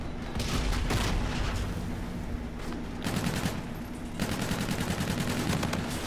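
Sustained bursts of automatic gunfire in Call of Duty: Infinite Warfare multiplayer, dense rapid shots coming in waves across the whole stretch, loud and continuous.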